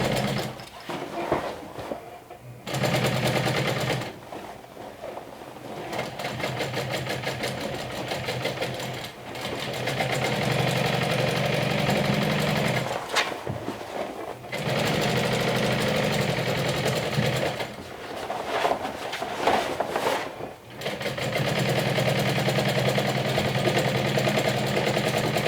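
A home sewing machine runs in several steady bursts of stitching while a bag is finished, its motor hum broken by short pauses between seams.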